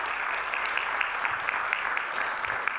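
A church congregation claps together during a Sunday morning service, a steady crackle of many hands at moderate volume lasting the whole moment, with no talking over it.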